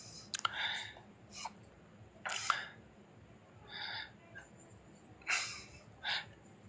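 In a geography class, questions are written on a board: about six short, scratchy writing strokes in irregular bursts, close by, with quiet room tone between them.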